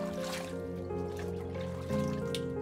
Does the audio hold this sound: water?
yes